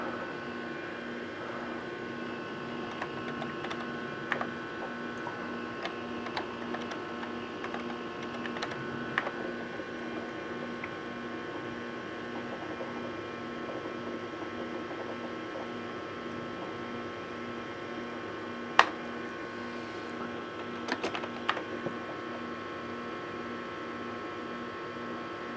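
Steady hum and whine of a running VAXstation computer with 6 MB of memory, a constant drone with occasional faint clicks and ticks, moderately quiet.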